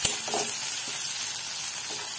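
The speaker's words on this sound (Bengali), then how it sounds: "এই পেঁয়াজটাকে আমি হালকা ব্রাউন করে ভাজবো।" Chopped onion and green chilli hit hot oil with a dense, steady sizzle and crackle, close and continuous with a sharp pop at the start, no voices.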